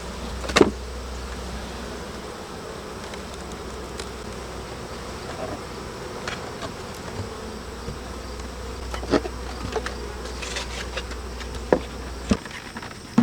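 Honeybee colony droning steadily as a hive is worked during a varroa mite count, a continuous close insect hum with a few brief knocks and clicks from handling.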